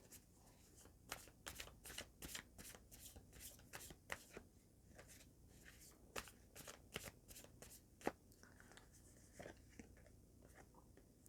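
Tarot cards being shuffled in a repeated riffling pattern of crisp papery flicks, close and fairly quiet, with no talk.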